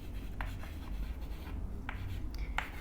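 A pen writes on paper or a board during an essay-writing lesson, giving a few brief scratchy strokes against a steady low background hum.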